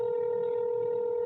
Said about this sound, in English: And it's just ringing where I can't enter that extension that she gave me.